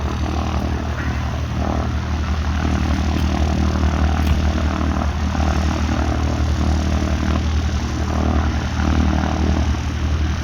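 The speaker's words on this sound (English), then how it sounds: "Oh, there's one landing there." A light propeller airplane lands at a former RAF airfield, its steady engine drone carrying at moderate distance across open ground for the whole stretch with no talk over it.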